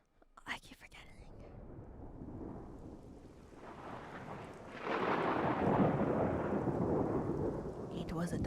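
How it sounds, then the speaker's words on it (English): A thunderstorm in the video game Xenoblade Chronicles 2: steady heavy rain hisses with deep rolling thunder, swelling noticeably louder about halfway through and staying dense to the end. "It was a dark and stormy night."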